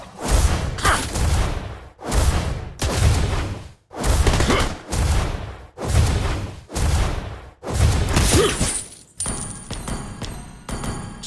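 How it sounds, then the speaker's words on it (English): Bursts of gunfire from the hero Clint in the mobile game Mobile Legends, about eight loud repeated volleys in a steady rhythm with short gaps, ending in a brighter jingling effect. "Try to outrun my bullets."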